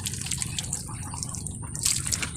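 Water poured into a container while preparing medicine for ducks, a trickling, splashing stream with bright drips, fairly close and without talk.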